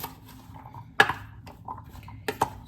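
A spoon works through a flour mixture in a bowl, giving a few sharp scrapes and knocks against the dish, the loudest near the middle and another pair toward the end, over a quiet background.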